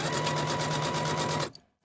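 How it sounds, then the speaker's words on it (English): A sewing machine runs a narrow zigzag stitch along the edge of a cardigan, a fast even mechanical whir with rapid rhythmic ticking for about a second and a half before stopping abruptly, followed by a faint click. "I'll sew the bottom edge just as far as the facing with a 3/8 inch seam allowance, using my narrow zigzag stitch"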